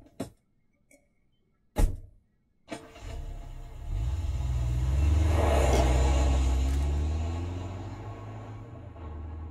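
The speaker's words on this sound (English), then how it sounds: "He's leaving in her car." A car door clunks shut a couple of times before the engine cranks and catches, then settles into a rising, steady engine hum as the car pulls away, with no talking.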